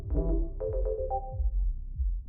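Phone ringing in the horror video game Dead Take, a repeating electronic ringtone chirping in short bursts over a low throbbing background.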